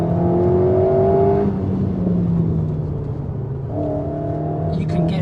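A facelifted Alpine A110 GT sports car accelerates hard in first gear, its engine note rising in pitch, easing, then climbing again, with someone talking over the engine.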